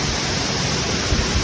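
Dunhinda (Duwili Ella) waterfall in Sri Lanka roars as a steady, dense wash of falling water, loud and unbroken throughout with no voices.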